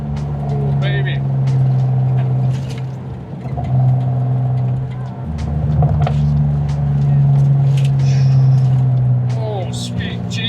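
A BMW car engine drones and surges as it accelerates through corners on a winding backroad, with a steady tonal hum rising and falling in pitch, heard from inside the cabin beneath excited talk.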